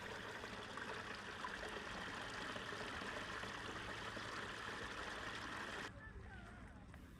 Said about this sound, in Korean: 하늘과 나무가 그대로 투영될 정도로 맑은 물이 흐르고 시원한 물소리가 기분도